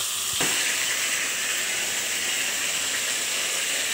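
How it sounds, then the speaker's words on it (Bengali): Boal fish fries in hot oil with a loud, steady sizzle, a dense continuous hiss heard up close with no talk over it. "মাছটা ভেজে নিচ্ছি"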